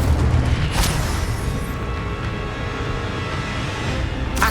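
The Incendio fire spell from Hogwarts Legacy erupts as a loud, sustained roaring blast, with a sharp burst near the start and another flare at the end.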